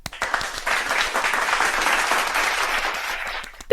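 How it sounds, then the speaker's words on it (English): Steady audience applause swells quickly and holds as a continuous wash of clapping, tapering off near the end, with no talking over it. "Let's give Nubbins a round of applause."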